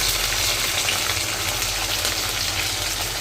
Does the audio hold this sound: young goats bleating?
no